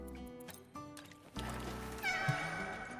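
White Cat, a character in the video game Wuthering Waves, meows several times in short, bright calls mixed with game sounds and background music.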